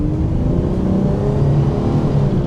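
A 1992 Dodge Dynasty pulls away under steady acceleration, its engine droning loud and close with a rising low hum and faint whir throughout, no voices over it.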